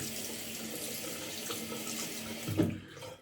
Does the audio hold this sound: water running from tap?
yes